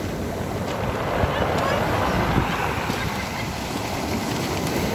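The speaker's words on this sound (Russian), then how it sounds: "Чуть волной не накрыло." Sea waves roll and break on the shore along the Imereti embankment in Sochi, a steady broadband wash with wind noise on the microphone, continuous and fairly close.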